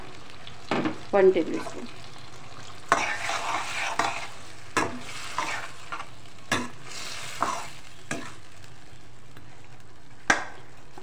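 Prawns with garlic and ginger frying in a karahi, with a soft steady sizzle and scattered scrapes and clinks of a spoon stirring the pan, close and fairly quiet, while someone speaks briefly.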